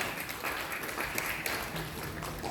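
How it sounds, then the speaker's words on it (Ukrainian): Audience applause at a folk festival as the performers are called onto the stage, sustained, even clapping from a crowd that fills the space without a break. "Ваши аплодисменты, поважанные сябры."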